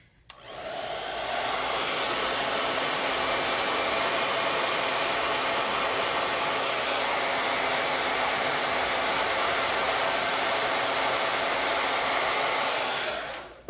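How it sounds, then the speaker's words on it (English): A hair dryer switches on and blows a loud, constant, airy roar for about twelve seconds, then cuts off, with no voices over it. "Let me get the hair dryer."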